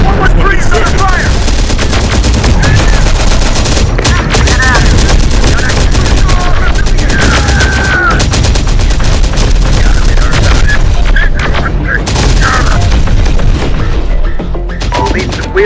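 Dense, loud gunfire rattles almost nonstop in Terminator Dark Fate Defiance, with machine-gun bursts, scattered booms and crashes piling up throughout and brief battlefield voice lines mixed in.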